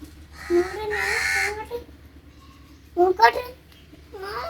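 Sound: crow cawing

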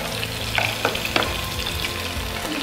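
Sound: frying mushrooms in a pan

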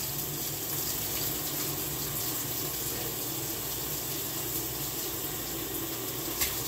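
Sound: rinsing a measuring cup under running water

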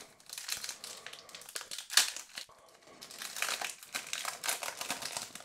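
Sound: foil trading card packet being opened

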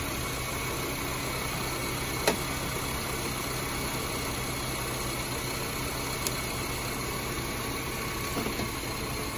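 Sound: car engine running while checking battery or alternator

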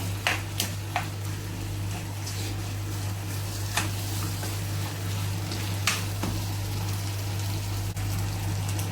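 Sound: chicken roast frying and being stirred over high flame

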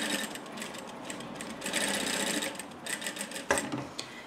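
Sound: sewing machine backstitching a mask pouch lining

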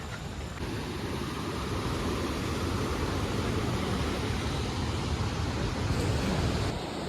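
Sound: flooded river rushing near Kalu Waterfall

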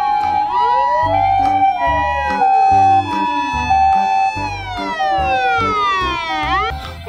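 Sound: toy ambulance siren

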